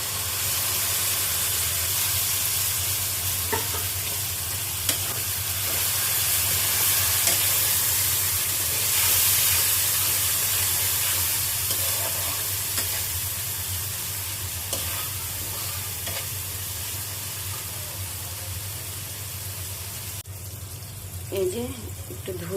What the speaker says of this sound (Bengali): মশলাটা একটু কষিয়ে নিব,